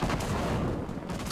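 Gunfire from the video game Fortnite sounds as a dense burst of rapid, loud shots crowding the short moment.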